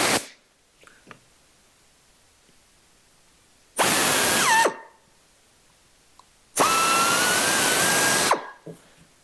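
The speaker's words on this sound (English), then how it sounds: "now we're gonna drill those two holes" A power drill bores two rivet holes through sheet metal held against a form block, two loud bursts of whining, grinding drilling, each about two seconds, separated by a quiet pause.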